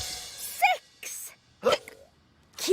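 A cartoon character from the Numberblocks series hiccups in sharp, voiced bursts at a steady rhythm, each spasm loud and close, with short quiet gaps between them.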